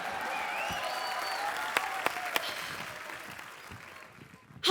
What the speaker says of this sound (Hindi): मैं ताली का नेटवर्क चेक कर रहा था कि आ रही आवाज कि नहीं आ रही